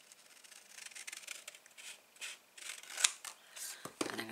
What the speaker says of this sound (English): And I'm going to snip my piece off.